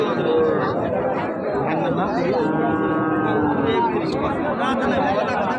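Heifer calves low amid busy crowd chatter at a rural cattle market in Panchbibi, Bangladesh, drawn-out moos rising over the constant hum of many voices.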